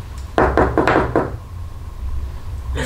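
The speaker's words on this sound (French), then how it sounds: "L'homme frappa." Four firm knocks on a wooden door in quick succession, close and resonant, followed by a quiet pause.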